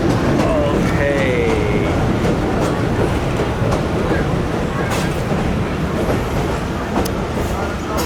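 The Jand shuttle train rumbles steadily through mountain tunnels, a loud, close, continuous roar with faint rail squeals and clicks, while someone speaks over it.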